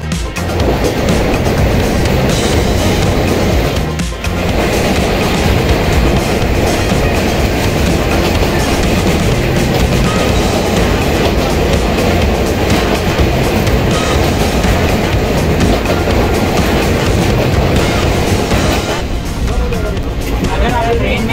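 A train rolls along the rails, heard from inside a carriage on a long-distance journey from Hyderabad to Assam. A loud, continuous rumble with rhythmic clatter carries on throughout the clip.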